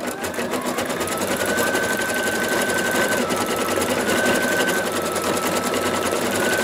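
An embroidery machine stitches steadily and loudly at close range, its rapid needle rattle continuous and even throughout, with a faint high whine rising at times.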